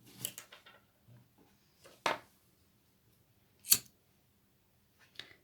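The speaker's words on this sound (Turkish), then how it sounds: "Kestim ipimi." Small scissors snip thread while shuttle-tatting lace, giving a few crisp, close, isolated cuts with quiet pauses between them.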